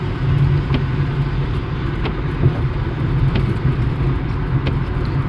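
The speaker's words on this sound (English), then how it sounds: "Hold on, this car is coming." A car passing on a road, a steady close engine and tyre rumble filling the whole stretch, with faint ticking clicks over it.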